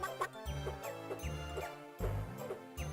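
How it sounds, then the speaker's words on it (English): Chickens clucking in the video game Gex 3, repeated short clucks over a looping game music bed with low bass notes, moderately quiet. "Did the chickens drop anything?"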